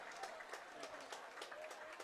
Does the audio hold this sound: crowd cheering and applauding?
yes